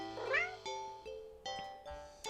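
Cat meowing in the video game Do NOT Take This Cat Home, one drawn-out rising meow followed by a series of soft chiming game tones, heard clearly with no talking.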